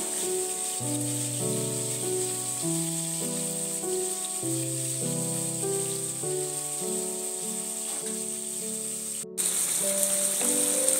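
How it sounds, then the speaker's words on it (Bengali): Small pieces of paneer coated with turmeric, salt and chilli powder fry in a pan, giving a soft continuous sizzle beneath gentle stepped musical tones. A brief cut near the end is followed by a slightly brighter sizzle. "এবার পনিরগুলোকে ভাজা করে নিচ্ছি"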